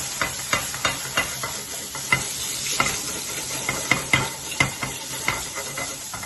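A thick smash burger patty sizzles and crackles steadily in a hot pan, with a spoon or spatula clicking and scraping in regular strokes over the frying hiss, close and moderately loud, no talk.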